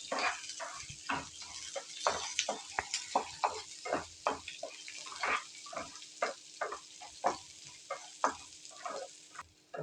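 Small onions sauté in a pan, a steady sizzle broken by frequent stirring scrapes and clatters, close and clear with no talking.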